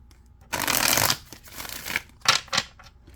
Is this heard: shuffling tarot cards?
yes